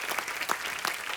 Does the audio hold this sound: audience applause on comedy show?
yes